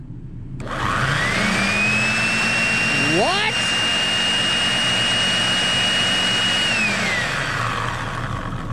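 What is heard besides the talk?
pickup truck engine running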